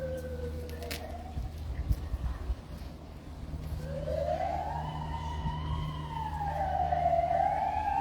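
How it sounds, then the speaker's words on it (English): A siren wails in the distance, rising and falling in long sweeps and growing louder over a low hum of traffic. "apart from the sound of siren"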